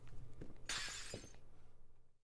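A block of glass shatters in the game Minecraft, a single crisp burst of breaking glass with a short tinkling tail, heard alone at low volume.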